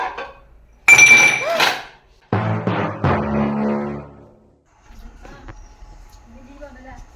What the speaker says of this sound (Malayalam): ഇത് പാത്രം കഴുകാം.